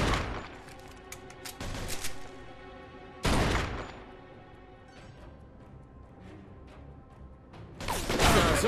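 Bursts of rapid gunfire in the video game Mafia 2 crack out in short volleys, with a loud burst near the middle and another at the end, mixed with mechanical clicks.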